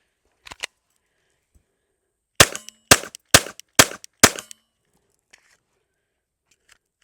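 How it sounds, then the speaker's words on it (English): Glock 44 pistol firing 22 LR rounds: five sharp, loud shots in quick succession with short echoing tails, after two quieter clicks and followed by faint small handling noises. "next we have another Glock 44 chambered in 22 LR."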